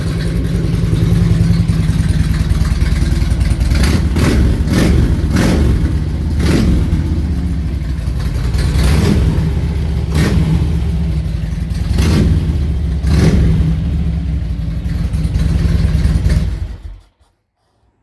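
A 2004 Harley-Davidson Road King V-twin idles with a deep, steady rumble and is blipped repeatedly, with short throttle rises cresting above it. The engine stays loud and close with no talking, then cuts off abruptly near the end.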